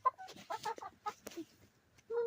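Hens cluck close by over a cabbage in short, irregular bursts, with a few sharper squawks breaking through and a brief low murmur at the end.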